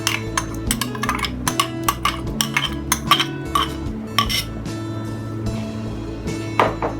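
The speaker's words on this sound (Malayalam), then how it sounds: "പരിപ്പ് കൂടി ഇട്ട് നന്നായിട്ടൊന്ന് ഇളക്കുക" A spoon stirring cooked lentils (parippu) into a drumstick and dried shrimp curry in a metal pot, rapid repeated clinks and scrapes against the rim over a steady low kitchen hum, close and without talk.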